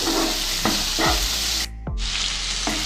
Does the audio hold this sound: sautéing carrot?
yes